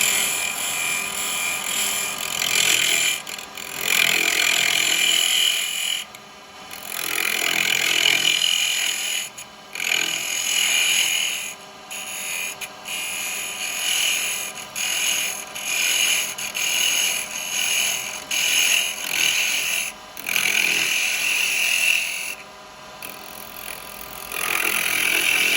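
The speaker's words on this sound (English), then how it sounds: "the best tool for that is the 10mm shear cut hollower" Woodturning on a lathe with a 10mm shear cut hollower while making Christmas cracker decorations, a steady high scraping hiss of the tool cutting spinning wood, continuous with brief pauses as the cut is lifted, close and fairly loud without talk.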